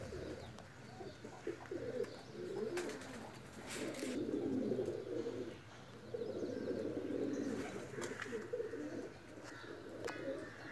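Pigeons kept in a loft coo softly in repeated low, throaty phrases that rise and fall, with a faint constant hum underneath and no talking.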